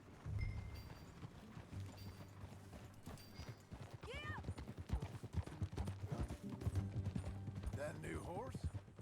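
Horse hooves gallop in Red Dead Redemption 2, a brisk, close clip-clop rhythm with a whinny partway through, over ambient game sound.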